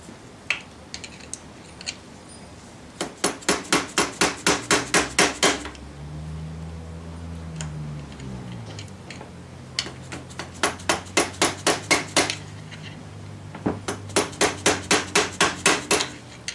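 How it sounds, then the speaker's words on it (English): Metal hammer strikes bend a bolt lock tab on a Suzuki Vinson 500 ATV cylinder head, coming in rapid bursts of about eight to ten sharp, loud blows with short pauses between, alongside a brief low mechanical whir. "Now we want to bend this little tab back over to keep that bolt from coming out."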